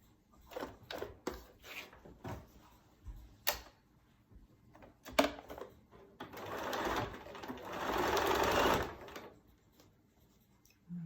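Sewing machine stitching a quilted placemat, starting with a few short bursts of stitching and then a sustained whirring run of several seconds close by.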